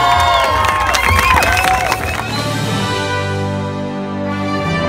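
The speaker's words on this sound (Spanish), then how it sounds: "Un fuerte aplauso, por favor." A loud crowd at a youth football award ceremony for a cup final cheers and shouts with bright, wavering voices and whistle-like tones, then settles into a steadier, lower crowd roar.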